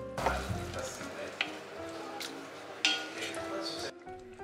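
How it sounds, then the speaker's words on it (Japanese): Tomato puree added to a pan of lightly fried garlic and onion for a paella sauce, sizzling and crackling up close with a few utensil clinks, then cutting off near the end. "そしてトマトピュレを入れます。"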